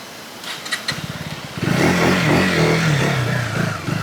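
A KTM Adventure 250 motorcycle engine idles with a loose clattering pulse, then revs up into a loud, close, sustained drone that rises and wavers in pitch.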